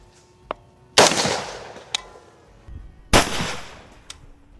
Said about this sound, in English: So now we're just gonna do one regular round of